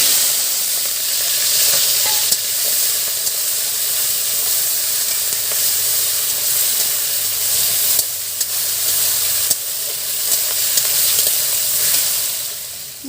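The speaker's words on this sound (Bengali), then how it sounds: "এবার চিংড়ি মাছগুলো ভেজে নেব।" Prawns fry in oil in a kadai with a continuous bright, hissing sizzle and spatter that holds close and loud throughout, with no voices.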